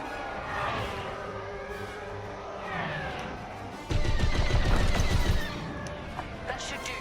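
Starfighter blaster fire rattles in rapid bursts during Star Wars: Squadrons gameplay, set against engine hum and cockpit effects, with a loud stretch of firing midway.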